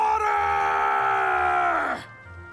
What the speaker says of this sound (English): That scream, was that Gull?